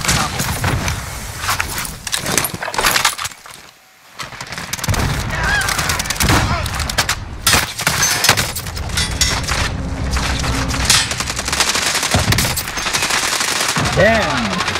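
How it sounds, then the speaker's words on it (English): Heavy gunfire in Call of Duty Warzone, loud bursts of automatic shots and booms across a chaotic battle, with a brief lull partway through and voices speaking over the fighting. "Hostile fire."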